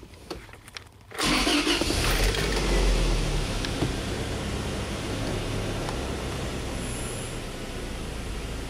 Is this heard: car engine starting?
yes